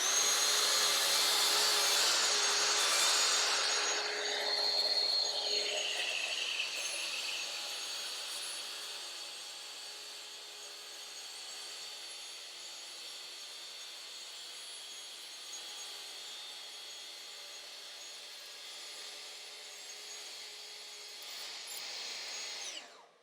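A Festool cordless track saw with dust collector cuts through wood in a loud, bright burst lasting a few seconds, then winds down into a long, fading whir as the blade and extractor spin to a stop.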